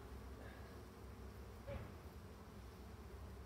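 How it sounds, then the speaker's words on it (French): Honey bees gather on a hive frame holding leftover feed during a spring inspection, humming in a soft, steady buzz close by, with one brief louder passing buzz midway. "déjà il commence à avoir des abeilles dessus"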